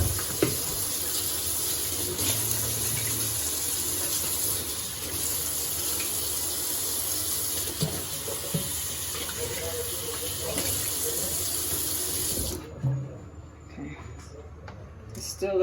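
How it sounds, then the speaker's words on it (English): Tap water runs steadily into a kitchen sink for hands being rinsed after cutting up a whole chicken, a loud continuous hiss that stops abruptly near the end, leaving quieter kitchen sounds. "I'm gonna rinse out my hands"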